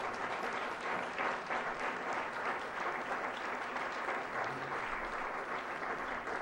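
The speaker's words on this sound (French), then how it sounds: "Mesdames et messieurs, applaudissons Vincent Bernard." A conference audience applauds a scholarship recipient, a full, sustained crowd clapping with steady density and no pause across the whole stretch.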